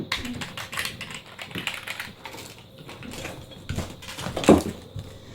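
Keys on a rubber dome computer keyboard are pressed in irregular clusters of soft, muffled clacks up close, with one louder knock near the end.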